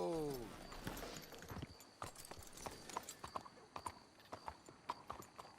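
Horses in Red Dead Redemption 2 clip-clop at a walk, their hooves landing in a steady, fairly close rhythm after an opening whinny.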